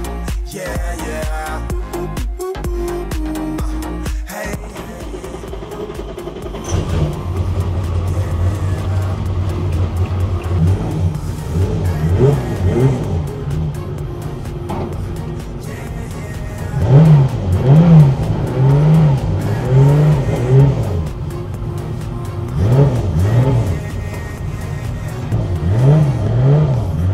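An RWB Porsche engine fitted with a light flywheel revs repeatedly, sharp rising and falling blips over a rumbling idle, loud and close, after some clicking and clunks at the start.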